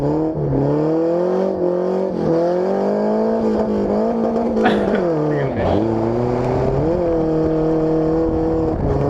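A drift car slides sideways at a drift event, its engine revving loud and close with the pitch rising and dipping as the throttle is worked, and a voice is heard faintly underneath.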